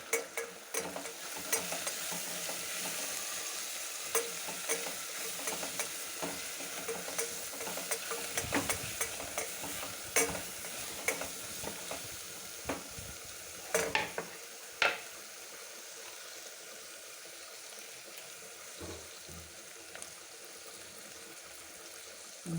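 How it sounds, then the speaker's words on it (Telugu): Washed mint and coriander leaves fry in a pan with steady sizzling and intermittent scraping stirs throughout, moderately loud with no talking. "కడిగి పెట్టుకున్న పుదీనా వేసి వేయించుకోవాలి అలాగే కొత్తిమీర కూడా వేసి వేయించుకోవాలి"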